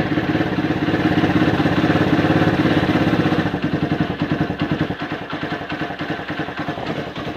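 A Suzuki 125 motorcycle engine runs after reassembly, a loud, close, rapidly pulsing mechanical chug that holds steady, then drops slightly in level partway through, with no one talking.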